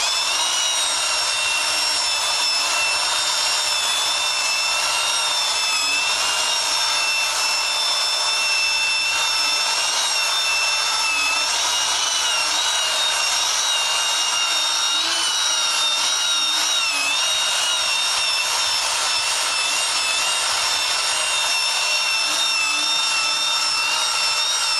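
A power sander with 80-grit paper runs steadily on wood, a loud, continuous whine with wavering high tones and no pauses, heard close and alone.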